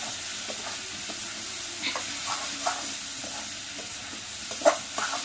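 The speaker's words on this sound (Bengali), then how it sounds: "এখানে একটু লাড়া দিয়ে দিব" Small mixed fish curry with tomato being stirred in a pan, a soft steady sizzle with occasional scraping clicks of the spoon against the pan.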